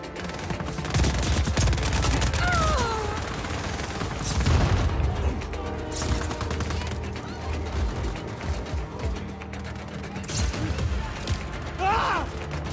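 Rocket launcher blasts and bursts of gunfire in the video game Just Cause 4, with loud booms, rattling shots and mechanical clanks filling a busy, continuous battle soundscape, while a voice talks over parts of it.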